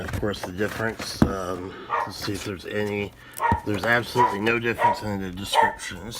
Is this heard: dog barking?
yes